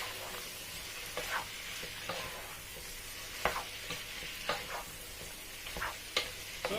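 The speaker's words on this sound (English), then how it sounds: "So I'm going to mix everything together." Fried plantain (dodo) and gizzard stirred in a pan, with soft sizzling under repeated spoon scrapes and clicks at an uneven pace, close and fairly quiet, no voices.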